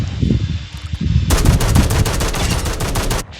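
NPCs fire automatic weapons in Call of Duty DMZ, a loud sustained burst of rapid machine-gun shots after a short stretch of muffled game ambience.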